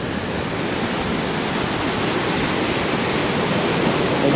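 Steady wash of ocean surf on an Outer Banks beach during hurricane season, a continuous broadband roar with wind, no voices.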